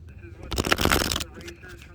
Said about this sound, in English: Let me show y'all that I'm shuffling.